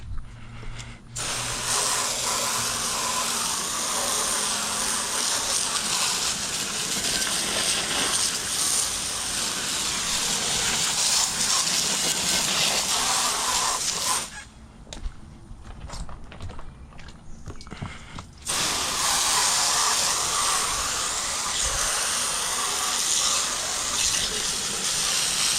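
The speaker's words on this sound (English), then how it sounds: "Okay, hose that off." Water sprayed from a hose over the engine bay of a 1998 Mercury Mountaineer, a loud continuous hiss and splatter that drops out briefly midway, then resumes steadily, with no talk.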